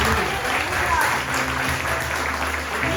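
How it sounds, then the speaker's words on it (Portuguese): Church congregation giving a round of applause for Jesus during a Portuguese Easter sermon, a dense, constant roar of clapping and crowd noise filling the space for a few seconds. "Dê uma salva de palmas para Jesus."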